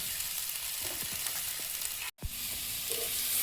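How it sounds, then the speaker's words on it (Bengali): Fried potatoes and pointed gourd sizzle steadily in a pan with a few light stirring knocks and one brief dropout, without talking. "আলুটা ভালোভাবে ভেজে নিয়েছি, এবার পটল দিয়ে আর একটু ভাজবো।"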